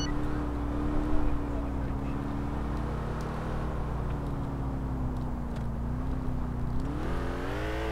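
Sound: car driving in video game GTA IV

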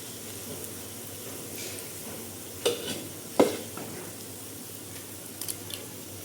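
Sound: veg manchurian frying until brown

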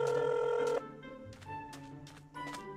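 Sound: phone ringing while calling a friend in video game Minecraft

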